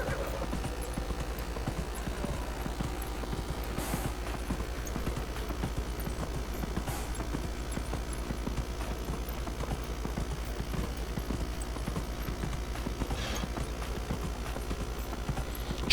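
Rhythmic clip-clop of a galloping horse's hooves in the fantasy video game Dragon Age Inquisition, steady and fairly close for the whole stretch, with no talk over it.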